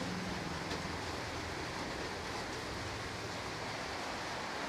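Heavy rain pours down steadily as a dense, even hiss with no breaks, moderately loud and continuous, with no voices.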